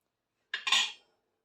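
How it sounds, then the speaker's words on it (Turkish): A spoon stirs chicken topalak soup with meatballs in a pot, giving one short clink and scrape of metal on metal, about half a second long, close and clear against silence. "arada sırada şu şekilde karıştırırsanız dibine yapışmasın köftelerimiz"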